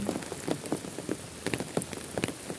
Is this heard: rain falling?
yes